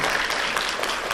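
An audience applauds the staff at a live science event, a dense, steady wash of clapping that stays loud and even for the whole short stretch with no voices over it.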